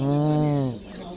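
A human voice imitates the call of an orange-eyed owl, known as guggu, in one loud, drawn-out low hoot that fades after about three-quarters of a second.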